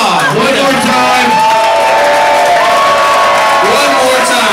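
A party crowd claps, cheers and whoops for a man called up to say a few words at a farewell gathering, a dense continuous roar with shouting voices mixed through it.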